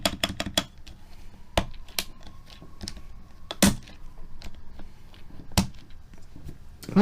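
Mechanical keyboard with BKE Heavy switches typed on in short bursts, crisp clacks and a few louder spacebar-like thocks scattered across a quiet room, close and distinct.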